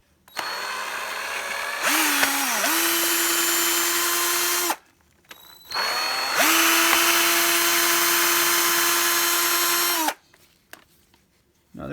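A power screwdriver backs screws out of a Traxxas X Maxx RC truck bulkhead in two loud, close whirring bursts of about three and four seconds. Each burst rises in pitch and then settles, with brief pauses between them.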